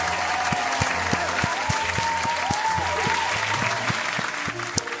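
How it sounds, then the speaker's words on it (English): Applause from a crowd fills the space as a steady, dense wash of clapping hands, loud and continuous from start to finish with no voices standing out. "Here's a round of applause to you."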